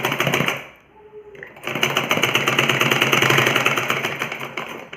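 A sewing machine stitches a strip for a ladies' kurta suit, running in a fast, loud, rhythmic whir, pausing briefly near the start before resuming steadily to the end, with no talking.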